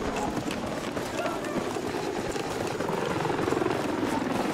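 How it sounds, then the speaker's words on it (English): A hostile helicopter in the video game Battlefield 6 gives a steady, rumbling rotor drone that builds slightly toward the end, heard amid in-game battle noise and radio voices. "There's a hostile helicopter operating west of your current position."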